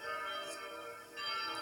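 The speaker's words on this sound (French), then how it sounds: "les cloches viennent de s'arrêter, donc la messe va commencer" Bells ringing at the Saint-Étienne chapel in Sully, a faint, distant layered tone that swells, fades briefly, then swells again, with no voices.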